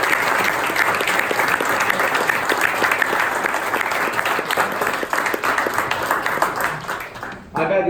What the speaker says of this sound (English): can we just have a huge round of applause for whoever prepared the meal and the cooks